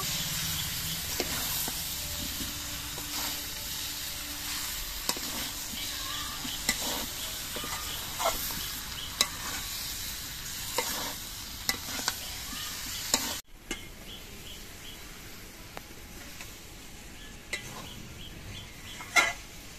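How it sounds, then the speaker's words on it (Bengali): Fried potatoes and squash are sautéed with spices in a pan, giving a strong, steady sizzle with stirring scrapes that drops to a quieter, softer fry partway through. "এবার সব কিছু দিয়ে একসঙ্গে কিছুক্ষণ কষিয়ে নেব"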